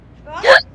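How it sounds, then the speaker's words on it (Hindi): A single sharp, voiced hiccup from a person in a Hindi comedy drama, close and loud, rising quickly and cutting off abruptly. "देखो तो कितनी जानलेवा हिचकी आई है।"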